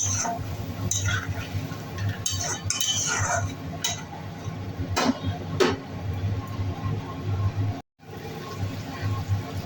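Spoon scraping and clinking in a pan as ground cumin, turmeric and chili paste masala is fried and stirred for a potol chingri curry, steady close stirring clatter over a low frying hiss.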